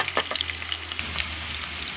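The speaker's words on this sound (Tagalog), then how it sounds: "Haluin lang natin until na mag-golden brown itong ating onion at saka bawang at luya guys" Onion, garlic and ginger frying together in a pan, a busy crackling sizzle broken by scraping stirs and utensil clicks, close and fairly loud.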